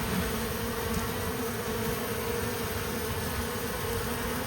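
A small cluster of honeybees from a swarm without a queen drones in a steady, continuous buzz close by, filling the whole stretch with an even, unbroken hum and no voices.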